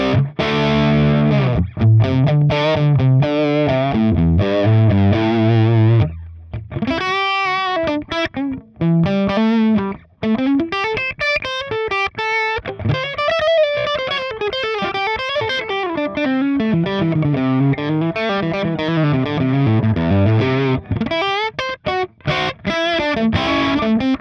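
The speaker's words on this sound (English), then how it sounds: "here's what this preset sounds like just with the raw amp and cabinet with those" Heavily distorted electric guitar through a Line 6 Helix Moon amp model and cabinet, played loud and sustained with chords and note runs, a brief pause midway, no talking.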